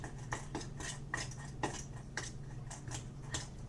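A spoon scrapes and taps rhythmically around a bowl while almond flour and peanut butter are mixed into a dry dough. The knocks and scrapes come about every half second, close and fairly quiet, with no talking.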